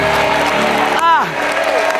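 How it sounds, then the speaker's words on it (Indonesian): Studio audience applauding steadily on the Family 100 game show, a dense clapping wash that runs throughout under a host's voice and a rising and falling tonal sweep. "tepuk tangan untuk keluarga Zulfikar juga"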